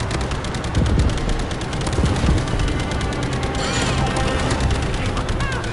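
Rapid automatic weapon fire fills the space in Call of Duty: Infinite Warfare's Jackal Assault VR dogfight against an SDF destroyer, a loud continuous rattle of bursts punctuated by impacts and crashes, with no talking.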